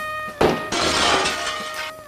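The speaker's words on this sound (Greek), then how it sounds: "Έσπασε το τζάμι της κουζίνας." Glass in a kitchen window shatters in a Greek film set in the early 1980s, a sudden loud crash followed by a sustained scatter of breaking shards over background music.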